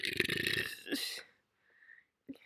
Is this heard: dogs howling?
no